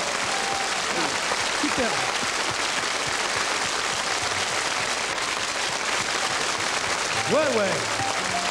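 Steady, dense applause from a television studio audience fills the whole stretch, with a few French voices speaking briefly over it.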